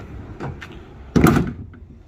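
A Decked storage drawer glides out of the bed of a 2021 GMC pickup truck, starting with a couple of light clicks and then a loud, close rolling rush that ends in a brief thud. No voices are heard.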